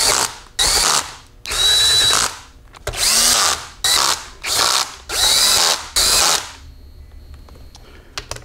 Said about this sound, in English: So I'm actually watching the torque wrench right now